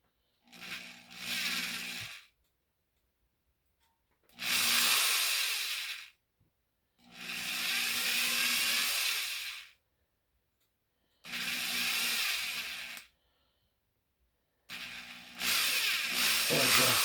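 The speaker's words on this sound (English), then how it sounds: "It should drill." A power drill bores into a rear mount part in five separate bursts of about two seconds each, a high whine with gaps of silence between them.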